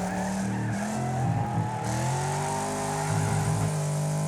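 A race car in the demolition racing game Wreckfest slows by dropping into first gear, its engine droning at high revs with tires squealing and skidding throughout, close and loud.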